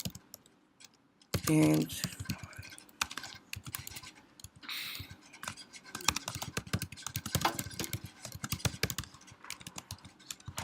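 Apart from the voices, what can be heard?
typing on a computer keyboard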